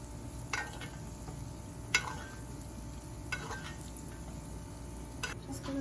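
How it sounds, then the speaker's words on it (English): Crawfish-stuffed salmon being basted as it sizzles in a pan: a steady, moderate frying hiss with a few sharp spoon-on-metal clinks scattered through. "Just gonna baste this again."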